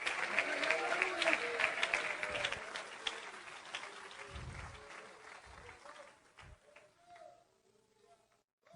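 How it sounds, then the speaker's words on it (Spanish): A Spanish-speaking church congregation claps together in sustained applause that fades out gradually, mixed with a voice speaking over it. "dele un aplauso al Señor en esta hora"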